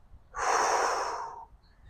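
A single forceful exhale from a qigong breathing exercise for the liver, a close, breathy rush of air lasting about a second in an otherwise quiet room.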